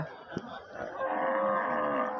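A cow at the Aricha cattle market in Bangladesh gives a short, low moo close by, rising out of quiet background noise.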